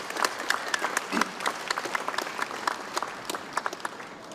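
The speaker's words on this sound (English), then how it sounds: "Let's give her a big round of applause, please." At the Boston Harborfest opening ceremony, an outdoor crowd applauds a singer after the national anthem, with scattered, sharp claps of varying strength that sound open and somewhat distant, and a faint voice briefly under them.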